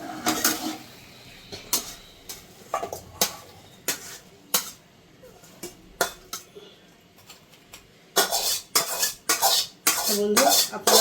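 Metal pot and utensils clank and scrape in a home kitchen as cooked kochur loti with small crabs is lifted off a gas stove, a run of sharp separate knocks that grows busier and louder toward the end.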